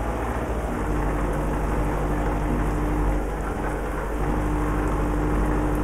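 Steady rain and a low, rolling thunderstorm in the Euro Truck Simulator 2 multiplayer game, forming a dense, unbroken wash of downpour with deep rumbles underneath that lasts the whole stretch, with no talking.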